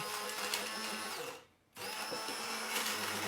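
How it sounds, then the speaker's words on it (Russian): Kitchen blender whipping ingredients, a loud steady whirring motor that cuts out briefly midway and then starts again. "И берем блендер, и это все мы взбиваем."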